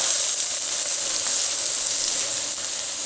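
A stuffed avocado cooks in a covered pan, giving a steady, dense sizzle and hiss that holds evenly throughout with no talking.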